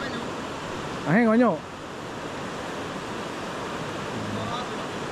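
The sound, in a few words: three-tiered waterfall in the jungle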